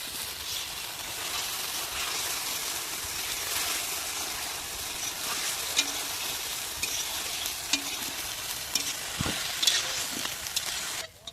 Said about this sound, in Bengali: ভেজে রাখা ডিম ও আলুগুলোকে এখন মশলার মধ্যে দিয়ে দেবো।